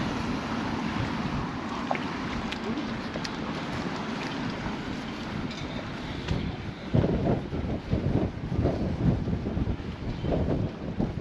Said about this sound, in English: Very, very windy at the moment.